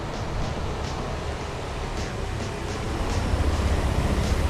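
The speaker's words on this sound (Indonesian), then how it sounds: "Sekarang, gue nyalain dulu motornya ya." A stroked-up Yamaha Aerox 200cc motorcycle engine idles close by with a steady low rumble under a broad rushing, wind-like hiss, the low throb growing a little stronger toward the end.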